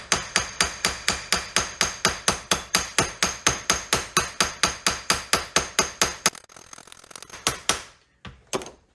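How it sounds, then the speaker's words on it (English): A flat-pointed hammer strikes sheet metal in a quick, steady run of about thirty ringing blows at close range. It pauses, then lands a few last scattered hits on the panel of a Thunderbird under restoration. "you can take a hammer with a point at the end of it"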